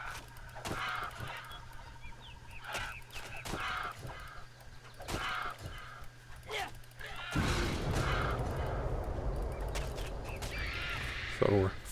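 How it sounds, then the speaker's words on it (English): Harpies and crows in the Titan Quest video game make squawking, honking bird-like cries over game combat sounds, repeated calls through the first part and then a louder, denser burst of battle noise near the end. "So we're fighting harpies and crows around here."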